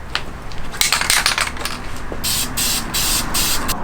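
An aerosol spray paint can lays a heavy final coat on an SR20DET engine, heard close up as several loud hissing bursts separated by short pauses, with rattling and knocking between them.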